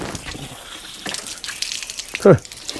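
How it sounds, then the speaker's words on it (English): Faint hissing and splashing water from a copper compression fitting on a tap installation, then a short louder gush near the end, with a voice speaking briefly in the background. "there should be a little bit of water come out of here. Oh, there it goes."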